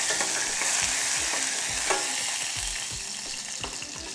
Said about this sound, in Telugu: ఈ పప్పులు 1 నిమిషం వేగిన తర్వాత 7-8 వెల్లుల్లిపాయలు ముక్కలు చేసుకొని వేసుకోవాలి.